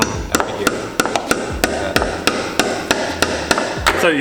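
Sharp, loud hammer blows ring out on the metal of a cheap drift car, about a dozen strikes in a steady, fairly even rhythm, close to the microphone.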